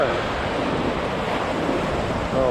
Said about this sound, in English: Oh, I love to watch the waves come in.